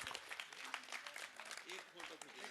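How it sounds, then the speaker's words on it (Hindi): Applause for a donor at a gathering comes through faint and uneven, a patter of clapping mixed with talking voices in a busy hall. "त्रिलोकीनाथ गोयल जी के लिए तालियां भाई"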